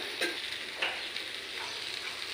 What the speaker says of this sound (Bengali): দেখতেই পাচ্ছেন সব মশলা দিয়ে আমার সবজিটা বেশ ভালো কষানো হয়ে গেছে।